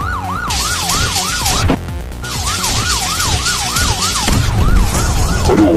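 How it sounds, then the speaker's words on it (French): A police siren wails in a fast, rising and falling cycle, loud and close, pausing briefly partway through before it resumes, with no talk over it. "Activement la sirène de la police."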